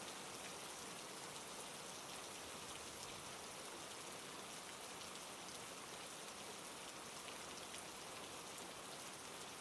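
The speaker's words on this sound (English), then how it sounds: "a gentle rain begins to fall, tapping softly on the earth" Gentle rain falls steadily on the ground, a soft, even hiss of drops with no pauses and no voices.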